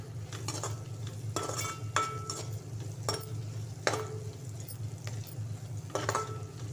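Tempering sizzles steadily in a pan for egg fried rice, with garlic among the aromatics, while a utensil scrapes and clinks against the metal in several distinct strokes over a low constant hum.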